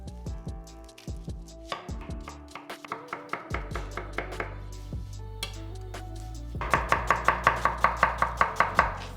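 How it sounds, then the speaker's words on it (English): A knife chops onion into small slices on a board for Turkish stuffed eggplant: a close run of sharp, regular taps that picks up speed and grows louder toward the end, with no voices. "Chop the onion into small slices."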